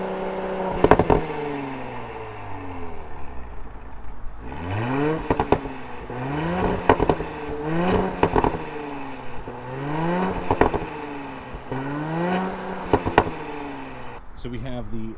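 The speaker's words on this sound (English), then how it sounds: "So we have the factory crackles and pops, which is really cool on this car." An Audi SQ5 in dynamic mode revs repeatedly in rising and falling sweeps, its exhaust punctuated by sharp crackles and pops between blips; loud and close, with no talking.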